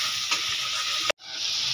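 Spices for chana masala are stirred in a hot pan with a steady sizzling hiss and a couple of scraping strokes, briefly cutting out before the frying resumes, with no talking.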